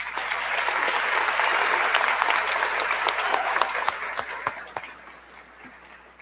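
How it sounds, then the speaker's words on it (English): A graduation ceremony crowd gives a warm round of applause for the online school staff, with dense clapping that thins into a few scattered claps before fading out. "Please join me in one more round of applause for our Yakima Online staff"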